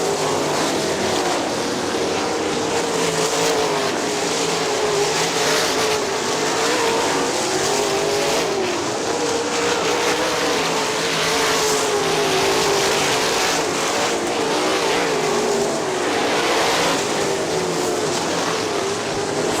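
Sprint cars racing at Kokomo Speedway, a loud, steady roar of several engines at full throttle that drones on without a break, with no voices over it.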